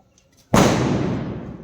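A chocolate bomb firecracker goes off with one sudden loud blast after a quiet moment, followed by a long rumbling decay.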